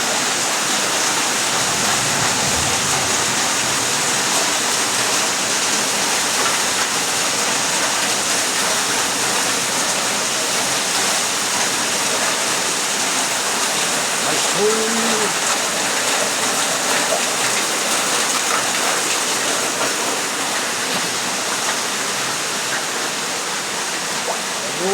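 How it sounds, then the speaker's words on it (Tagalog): Heavy rain pours down in a constant, dense roar during flooding, with a faint voice surfacing briefly. "Grabe, ulan."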